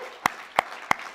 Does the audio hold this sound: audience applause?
yes